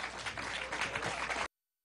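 Brief audience applause at a political congress session on religions and cults, a steady wash of clapping lasting under two seconds before cutting off abruptly.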